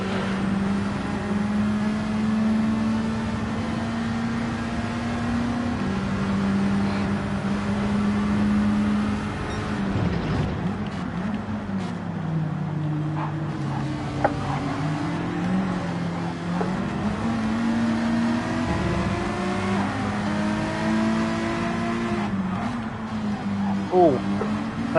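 Racing car engine in a video game, a loud steady drone with shifting revs that drops and climbs again after a crash-like burst midway, running throughout under a talking voice.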